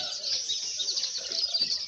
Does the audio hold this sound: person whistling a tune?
no